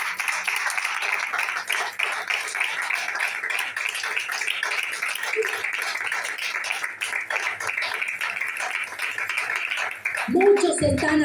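Church congregation clapping hands steadily in a dense, continuous wash of applause that fills the room for most of the stretch, ending as a voice breaks in near the close.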